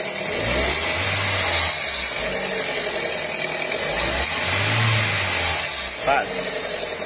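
A Ford Ka with a Zetec Rocam engine idles and revs up and down with a rough mechanical clatter from a timing chain fault, heard up close with voices under the engine.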